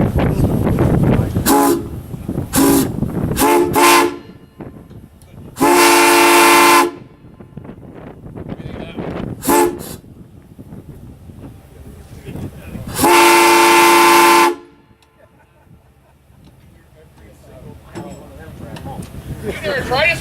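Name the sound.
train horn on a passing train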